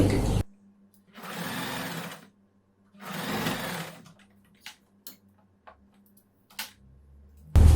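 A sewing machine stitches the shoulder seam of a girls' summer dress in two short whirring bursts, close and clear, followed by faint clicks and handling noises.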